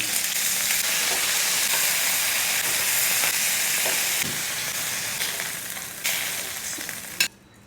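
Marinated prawns frying in hot coconut oil, a loud continuous sizzle and crackle that holds steady and then eases slightly near the end, close up, with no voices.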